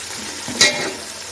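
Ingredients for mutton biryani sautéed in a pan, a steady sizzle with one brief scrape of stirring near the middle, close and alone.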